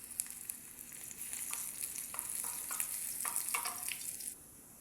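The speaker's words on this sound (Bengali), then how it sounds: "এখন বাগার দিব। শুকনো মরিচ দিয়ে দিলাম," Dried chillies and garlic frying in hot oil to temper cooked dal, a steady bright sizzle with a few utensil clicks and scrapes, fairly close, cutting off near the end.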